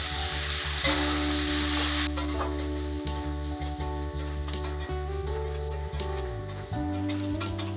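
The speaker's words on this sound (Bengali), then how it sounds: "এরপর দিয়ে দেব কেটে রাখা পেঁয়াজ এবং লঙ্কা কুচি। ভালোভাবে মিক্স করে নেব এবং ভালোভাবে ভেজে নেব।" Potato, onion and chopped chili fry in a pan for street-style ghugni chaat, a soft crackling sizzle with scattered stirring clicks, joined by a sustained steady hum and a brief louder burst early on.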